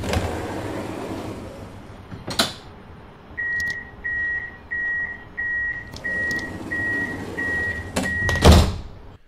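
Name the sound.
tram doors opening and closing in video game Tramsim Vienna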